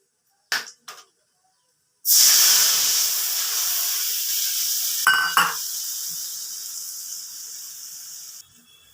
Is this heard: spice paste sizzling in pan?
yes